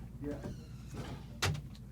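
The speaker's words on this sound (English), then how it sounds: "I'm gonna shut this door." An indoor door is shut with a single short thud that comes after a stretch of low, muffled talking in the room.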